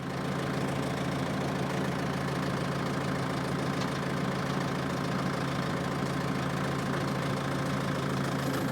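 A New Holland 1412 tractor engine idles steadily after being throttled down, a constant close low rumble with a faint knocking pulse and no pauses or speech.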